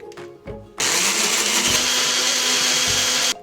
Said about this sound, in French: Je prends mon blender, j'y ajoute mes framboises, un petit peu de cassis